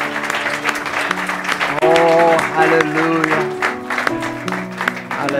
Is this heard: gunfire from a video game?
no